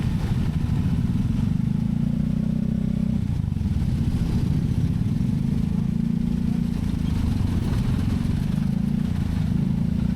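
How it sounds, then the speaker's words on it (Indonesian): An electric motorcycle rolls slowly through congested pre-holiday traffic on a southern-route tour from Cirebon to Yogyakarta, with a steady, loud rumble of road and wind noise that persists throughout and no clear talk. "Motor juga makin pelan teman-teman."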